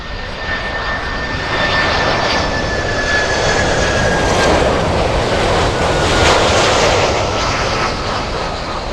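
A jet airliner on a go-around at Miami International Airport roars loudly and steadily with high engine whine, swelling midway as it climbs past with full power.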